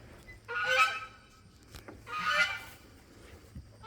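A goose lying in a doorway gives two loud, close honks about two seconds apart, each a harsh drawn-out call, with quiet rustling between.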